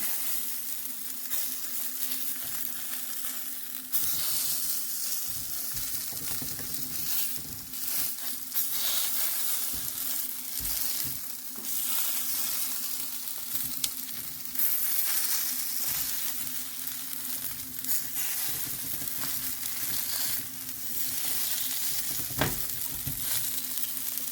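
Chicken shami kebabs sizzling in hot oil in a pan, a steady loud crackling fry that runs throughout with occasional faint clatter, close up and without talking.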